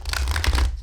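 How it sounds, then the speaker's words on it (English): Oracle cards on the large side are riffle shuffled by hand, giving a dense, close burst of rapid papery flicking and scratching that runs nearly a second with no talk. "we're going to try a riffle shuffle and see how it works out with"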